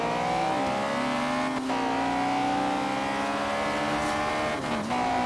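A Jeep racing in Forza Horizon 3 revs loud and close, its engine note climbing and dipping briefly at two gear shifts, with no voices.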